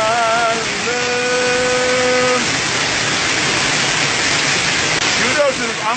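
A waterfall and mountain streams rush with a loud, dense, constant roar, and a voice sounds over it during the first few seconds.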